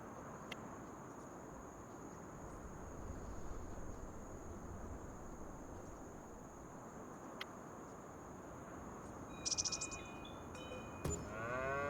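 Cows mooing in a farm-building video game, a faint bovine call rising over a steady background hiss and insect-like chirping, with a couple of brief higher tones near the end.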